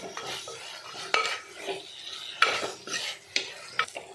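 A spoon scrapes and knocks against a frying pan while stirring grated coconut, soft irregular strokes with a few sharp metallic clinks, faint sizzling underneath, close and without talk.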